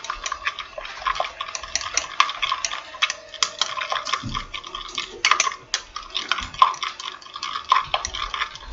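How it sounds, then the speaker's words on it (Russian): Soap mixture stirred thoroughly in a container, a busy run of quick light clicks and taps from the utensil against the vessel, close and uneven. "И еще раз все тщательно смешиваем."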